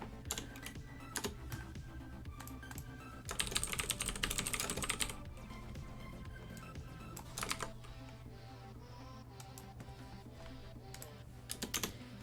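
Steady typing on a computer keyboard, rapid clicking keystrokes at close range with a brief burst of louder broadband noise partway through, over a low constant hum.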